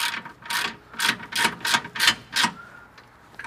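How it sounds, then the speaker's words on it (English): Ratchet wrench tightening a rear lower control arm bolt on a 2022 Subaru BRZ/Toyota 86, heard as a close steady series of about seven clicking pulls, with no talk. "we're gonna go ahead and put a wrench on the back just to make sure that doesn't move on us. And we're going to tighten that down."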